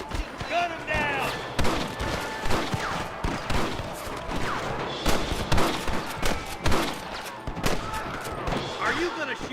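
Rapid gunshots crack through a Red Dead Redemption shootout with rustler guards, coming in scattered bursts and single shots at varying distances, with shouting voices in between.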